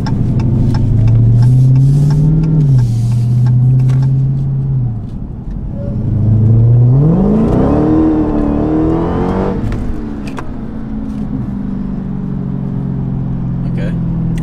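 A 700 hp Dodge Hellcat at an autocross event revs up under full throttle, its loud engine note rising in pitch, dropping back, then surging again before easing off, with a voice talking over it close by.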